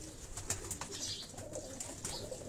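Pigeons on a Karachi rooftop give soft cooing calls with a few faint flutters, heard at moderate distance over a light outdoor background hum.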